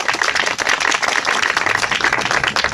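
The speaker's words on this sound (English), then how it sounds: "Give a round of applause." Audience applause at a speakers' event fills the room with dense, steady clapping from many hands, loud and continuous throughout.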